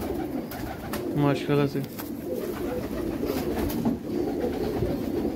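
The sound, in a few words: Lahori high flyer pigeons cooing in loft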